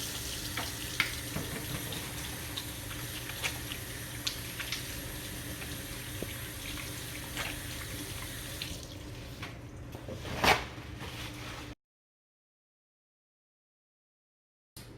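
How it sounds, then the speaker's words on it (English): Hands being washed under a running kitchen tap while cooking seafood egg rolls: a steady, close rush of water with small splashes for about twelve seconds, then it stops abruptly into silence. "next I'm gonna wash my hands"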